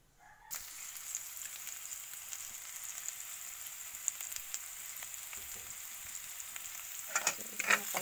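Meat sizzling and frying in a hot pan for pancit canton, a steady crackling hiss that starts abruptly after a brief quiet moment and continues close up, with a few louder stirring clatters near the end.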